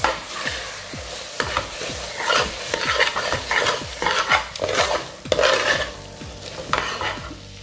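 Andhra mutton curry with spices is stirred in a pan, with repeated rhythmic scraping strokes and metal clinks over a low sizzle. The strokes are close and come in quick uneven bursts, and no voice is heard.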